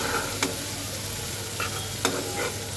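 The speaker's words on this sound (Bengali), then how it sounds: "আমি মশলাটাকে আরও একটু কষাবো" Spice paste for a thin chital fish curry with ground ginger is stir-fried in a pan, giving a steady close sizzle broken by a few sharp scraping strokes of the spatula.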